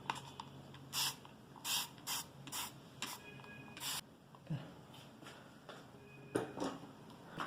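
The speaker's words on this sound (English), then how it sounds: "I will spray some water at the top" Several short, bursting hisses of a spray bottle misting water onto watercolor paper, coming in quick irregular puffs close by, with quiet pauses between.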